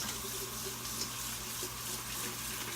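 Cold water runs steadily from a kitchen tap into a bowl holding a cup of flour, a constant close rushing hiss with no pauses.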